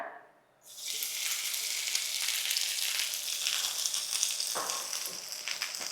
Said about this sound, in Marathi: तव्याला असं तेल लावून घ्यायचं थोडं तेल टाकायचं आणि हे बोंबील टाकायचे